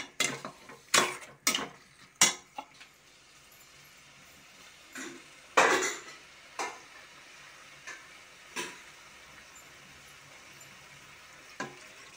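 Mutton kulambu is stirred in a pot after the mutton's cooking water is mixed in, with a spoon clanking and scraping against the pot in several sharp knocks, then a quieter sizzling simmer between occasional taps.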